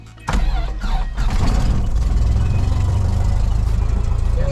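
A small airplane's piston engine cranks and catches after a shouted clear call, then settles into a steady, loud, smooth running roar close by with no talking.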